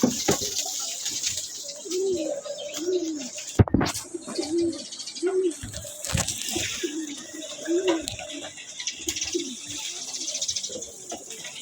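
Pigeons coo steadily while being fed, a rhythmic series of low throaty coos repeating every second or so, with faint background noise and a few sharp clicks.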